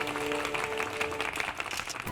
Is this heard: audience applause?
yes